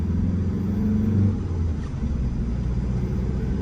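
A 2012 Hyundai H1 2.5 manual van's engine revs as the accelerator is pressed, a steady, loud low rumble that rises and then settles back to a droning idle.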